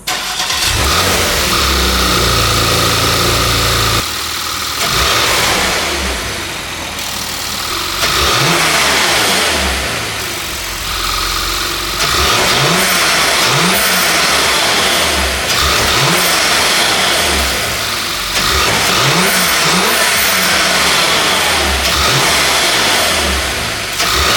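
A Porsche Macan engine with new air filters starts and revs repeatedly, loud rising and falling roars separated by brief idling, close and unaccompanied by talk.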